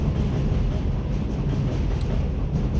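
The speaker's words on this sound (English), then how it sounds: "The train is passing." A train rumbles past close by, a steady heavy roar of rolling wheels and cars filling the whole stretch with no talking.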